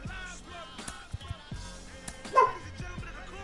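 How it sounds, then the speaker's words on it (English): An excited dog gives a few short yips and whimpers between quieter gaps, fairly close and moderately loud over a low background hum, with little talk. "My dog's very excited about it."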